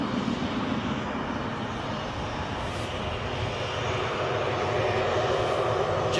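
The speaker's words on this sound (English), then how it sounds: "Jet2.com, your home for friendly low fares, according to this Jet 2 aircraft." A Jet2 airliner passes at Newcastle airport with a steady, broad jet-engine roar that holds evenly and grows slightly louder toward the end, with no one talking.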